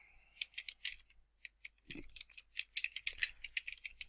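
A chat message is typed on a computer keyboard: quiet, close clicks of individual keys in irregular bursts, with one duller thud in the middle and a quicker run of keystrokes toward the end.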